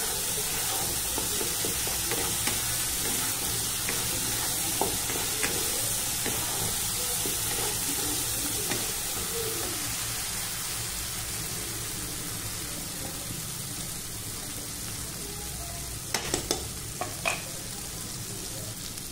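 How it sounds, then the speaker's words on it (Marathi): Masala spice paste for chole roasts in a pan with a steady close sizzle and hiss, broken by a few sharp stirring clicks near the end, and no talking. "तुम्ही पाहू शकता मसाला भाजत आहे आपला"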